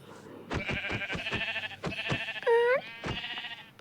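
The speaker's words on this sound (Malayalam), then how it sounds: "ആടുംകുട്ടി" A young goat gives one short bleat close by, amid a run of quick sharp knocks and clatter.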